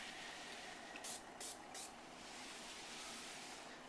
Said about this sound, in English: all we're going to do is spritz it on